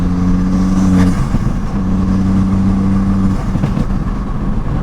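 A 5-cylinder 2.5-litre engine swapped into a Ford Escort idles close by with a deep, throbbing drone, broken by a couple of sharp pops from the exhaust.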